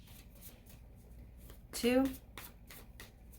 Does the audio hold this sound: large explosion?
no